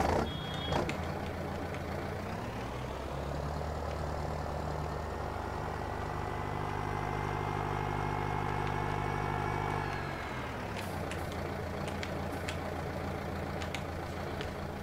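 A modded John Deere vehicle in Farming Simulator 19 runs through a sound test: a steady engine drone with a high reversing beep, rising to a fuller roar mid-way before settling back, no talk.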